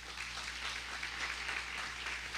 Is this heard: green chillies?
no